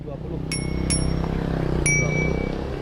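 A bicycle bell for sale at a street accessory stall in Alun Kidul, rung three times with bright metallic dings over a busy outdoor hum of voices and traffic.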